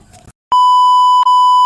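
A timer sounds a loud, steady electronic beep that holds for about a second after a brief burst of background noise, then gives a second beep after a very short gap.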